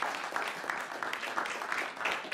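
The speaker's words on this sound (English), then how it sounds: "A round of applause for our judges who had a really difficult job." Audience applause for the judges at the Fingal Enterprise Awards 2022, a moderate crowd clapping with steady, slightly uneven bursts, heard alone without talk.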